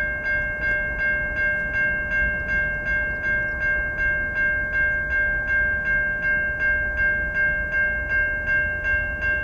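Westbound BNSF freight train led by ET44C4 locomotive 3914 passes with a low, steady rumble beneath a continuous ringing tone pulsing in a quick, even rhythm.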